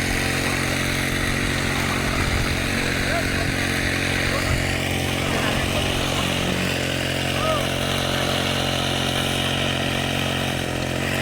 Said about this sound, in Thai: เสียงเครื่องใดน้ำอาจจะเสียงดังนะคะ